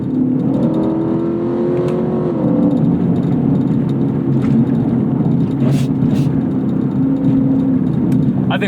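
A track-prepped Lexus IS F sport sedan drives on a circuit, its engine a loud, steady drone with a rising then settling tone, heard from inside the cabin and continuous throughout.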